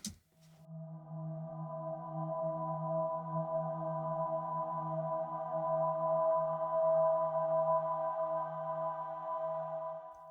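A soft, sustained synthesized choir pad (Hans Zimmer Symphonic Elements, 'Uneasy Thoughts' patch) holds a dark chord, swelling gently and hanging unchanged for several seconds, quiet and eerie with no voices speaking.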